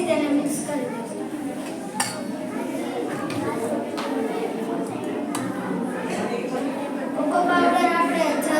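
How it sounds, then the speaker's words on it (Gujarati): Chocolate laddu mixture being stirred and mixed in a bowl for a sweet, steady scraping and clinking of utensil against the dish, running continuously under ongoing speech with a brief sharper clink near the start. "આપણે ફરીથી તેને મિક્સ કરી દઈશું."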